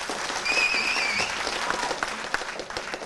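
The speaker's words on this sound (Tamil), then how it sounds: "ஆக்சுவலாக நல்லா கரகோஷம் கொடுங்க அண்ணனுக்கு." Audience applause for a singer at a movie audio launch, a loud sustained burst of many hands clapping with a faint tone running briefly over it early on.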